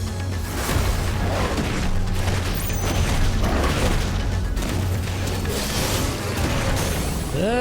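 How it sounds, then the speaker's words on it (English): A loud explosion in the Final Fantasy 16 video game rumbles over dense battle sounds and game music, sustained and heavy across the whole stretch with a low booming body. "Explosion!"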